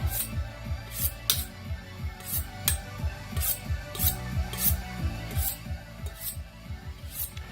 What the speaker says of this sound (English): So I got my carving knife, my honing blade